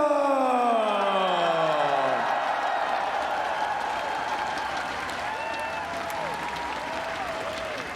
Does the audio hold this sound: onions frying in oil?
no